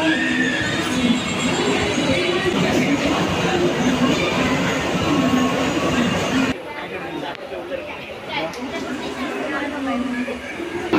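Station ambience at Mumbai's Dadar station as the Tirunelveli Chalukya Express waits to depart: a continuous rail rumble mixes with busy crowd chatter and nearby voices, then the sound thins and quiets partway through.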